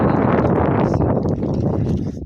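Loud, steady wind buffeting directly against the microphone, producing a constant low roaring rumble with no talking.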